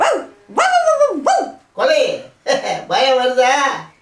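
A dog barks and yips in a series of loud, close, drawn-out barks, each with a growly edge, coming in four bursts with short pauses between.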